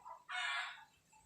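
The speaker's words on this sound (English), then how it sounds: "They're all up at 2 o'clock in the morning crowing, man." A rooster crows once in the Philippines, a short, fairly distant call rising after a brief lead-in cluck and fading within about a second.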